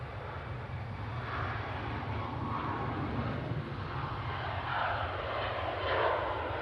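Ryanair airliner taking off at Manchester Airport, bound for Naples: a loud, sustained jet roar with deep rumble that holds steady and swells slightly toward the end.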